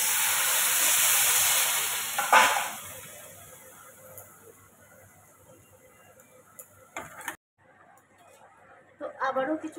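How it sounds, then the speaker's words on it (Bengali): Water poured into a hot pan of prawn and jute leaf curry sets off a loud, steady hiss that swells briefly and then fades into quieter bubbling, with a few later clatters. "নিয়ে এবারে জল দিয়ে দেবো।"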